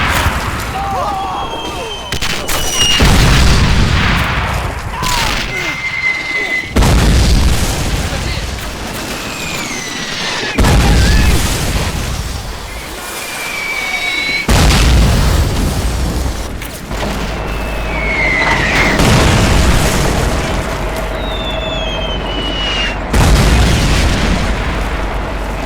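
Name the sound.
Russian artillery and Katyusha rocket barrage in Men of War video game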